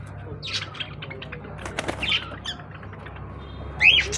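Fancy crested, feather-footed pigeons in a pet shop give scattered chirps and short calls, ending in a sharper, louder squawk against a quiet room.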